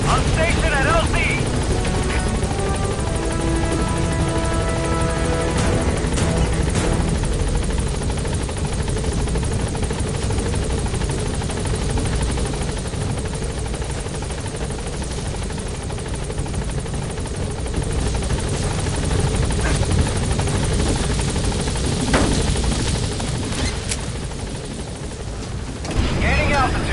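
Support helicopter in Metal Gear Solid V arriving at a landing zone, a loud continuous rotor roar and whine that fills the whole clip, with radio voices talking over it.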